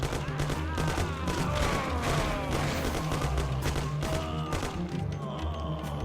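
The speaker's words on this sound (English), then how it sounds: "Actually no, I got the Tommy gun here" Continuous Tommy gun fire and other gunshots in the Mafia video game, a dense, loud rattle of automatic bursts layered with thumps that carries on throughout without a break.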